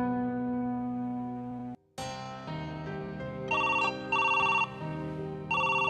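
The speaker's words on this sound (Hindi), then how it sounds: "लो आ गया फोन। लो ये लो, बेल जा रही है।" A telephone rings with a repeating electronic ringtone in bursts, loud and close, over a steady musical tone in the background.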